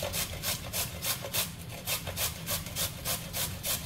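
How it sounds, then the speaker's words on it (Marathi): A carrot is grated finely by hand against a metal grater, giving a steady run of rhythmic rasping strokes, close and fairly loud, with no talking. "आपण गाजर किसून घेऊया।"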